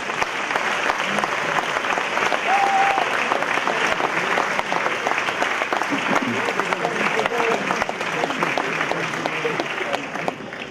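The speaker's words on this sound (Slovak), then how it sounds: "Tak to si zaslúži potlesk." Steady, sustained applause from a seated audience at a panel discussion marking the 20th anniversary of a band, with a continuous dense clapping texture from start to finish.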